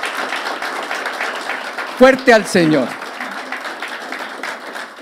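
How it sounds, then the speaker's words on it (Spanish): Church congregation applauding their pastors in steady clapping, with a brief burst of voices calling out near the middle and talk over the clapping. "Démosle un aplauso a Dios por esos pastores que tenemos."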